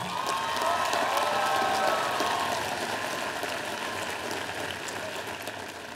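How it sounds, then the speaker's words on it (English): An audience at the Queensborough Community College 2014 commencement applauds, a steady wash of many hands clapping in a large hall that slowly fades, with faint crowd murmur beneath. "let's give them a round of applause"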